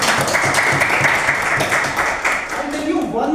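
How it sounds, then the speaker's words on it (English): Audience at a Toastmasters club meeting giving a round of applause, a short burst of close indoor clapping from a modest crowd that fades out toward the end as a voice begins. "Let's give a round of applause."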